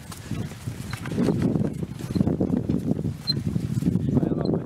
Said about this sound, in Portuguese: andando de charrete. A charrete.